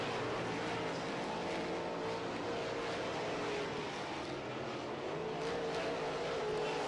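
Modified race cars circle a track during a heat race, their engines a steady, distant roar with shifting revs and no clear passes standing out, under a constant wash of crowd and track noise.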